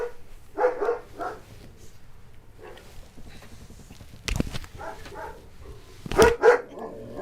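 A dog barks indoors in several separate bursts, some soft and distant, others sharp and loud near the end, over quiet room sound.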